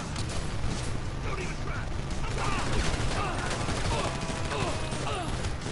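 Dense rapid fire from an AK rifle in GTA, a continuous noisy barrage of gunshots with mechanical clatter running the whole time, a voice talking faintly underneath.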